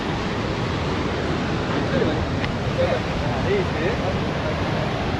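Rough monsoon waves surge at Bhandarpule beach in Ratnagiri, a loud, constant roar of surf and wind that goes on unbroken, with faint voices somewhere in the mix.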